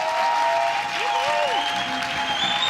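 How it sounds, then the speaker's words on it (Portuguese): Conference audience applauding to welcome a speaker at a design event, a steady wash of many hands clapping throughout, loud and full, with a faint tonal sweep over it. "Uma salva de palmas para ela."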